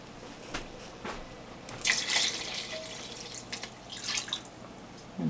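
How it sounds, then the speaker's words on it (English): Water poured into a cooking pot while making okra sauce, splashing and trickling in a few bursts of varying strength over a background hum, no talking. "Let me put some more water in there."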